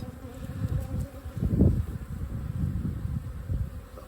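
Honey bees buzz around an opened hive, a close, steady drone with individual insects swelling louder as they fly near.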